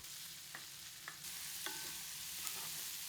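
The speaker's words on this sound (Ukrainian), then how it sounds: "Коли шкварки підрум'янились, додаємо до них цибулю і продовжуємо смажити." Steady sizzle of onions and pork cracklings frying in a pan, with a few light stirring clicks and scrapes over the hiss.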